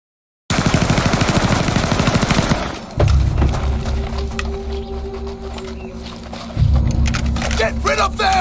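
Rapid automatic gunfire in Resident Evil Zero, a loud steady rattle of machine-gun bursts running through most of the stretch, with a brief pause and then a renewed, louder volley near the end.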